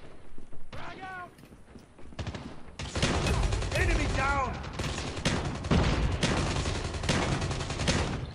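Rapid bursts of shotgun fire in Call of Duty blast repeatedly, loud and dense, while a person talks over and between the shots.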